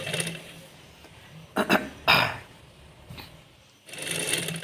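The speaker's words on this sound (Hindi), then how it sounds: "फ़ोल्ड करने के बाद इस तरह से ऐसे इसके ऊपर फिर एक और सिलाई लगा दूँगी" A sewing machine runs up close, stitching a folded strip onto a trouser, with whirring bursts of needle clatter broken by brief pauses and stronger loud runs at the start and end.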